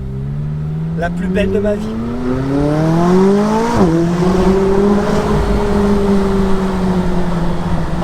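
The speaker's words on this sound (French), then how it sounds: "ce que je ressens quand tu accélères à bord d'une McLaren 570S" A McLaren 570S sports car accelerates hard, its engine note climbing steadily, briefly dipping at a gear change, then holding a loud sustained roar under someone speaking French.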